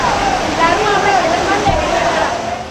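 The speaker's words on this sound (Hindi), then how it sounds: "इस बीच पानी की धारा और तेज हो गई" Fast-flowing floodwater from heavy rain in Kathua rushes in a steady, loud roar of churning water that fills the whole scene, with a voice speaking over it.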